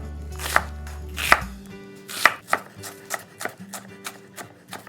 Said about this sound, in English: I just like to run my knife through one way so I get nice little slices